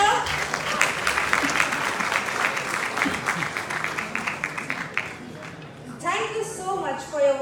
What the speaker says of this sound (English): May we have a resounding applause for sir.